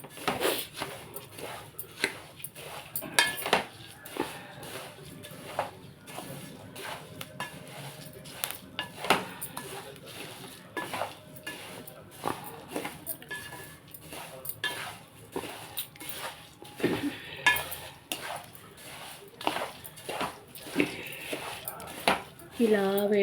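Flattened rice with peanuts and roasted gram is fried and stirred in a pan, with intermittent scraping clinks of a spoon against the metal and a faint sizzle under a person talking.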